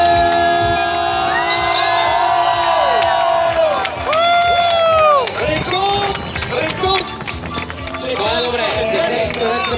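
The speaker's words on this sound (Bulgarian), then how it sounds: "Нека да ги аплодираме силно, браво!" A loud crowd cheering and whooping over a constant din of shouting, with sustained tones and brief rises and falls, dense and continuous throughout.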